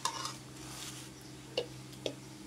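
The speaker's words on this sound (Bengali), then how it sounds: "এখন রেখে দিচ্ছি আচারটা বয়মে।" Mango oil pickle is spooned into a storage jar in a quiet kitchen, with soft stirring scrapes and two brief clinks of the spoon against the jar.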